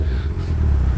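Motorcycle engine revving hard as it accelerates, a loud, close, low rumbling roar lasting about a second with no voices over it.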